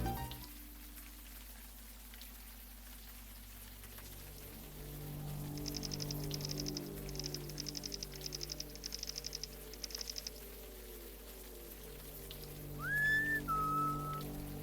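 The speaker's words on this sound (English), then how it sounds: "Who's whistling?" Someone whistles a short tune in the Unavowed game, a light repeated melody midway through over a low ambient hum, then a brief rising whistle near the end; no one talks.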